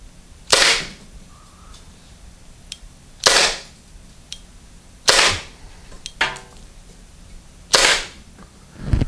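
Salt Supply pepper spray gun firing four sharp, loud pops spaced about two seconds apart, each a brief bright crack with a short tail, outdoors.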